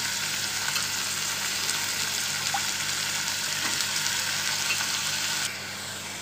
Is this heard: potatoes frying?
yes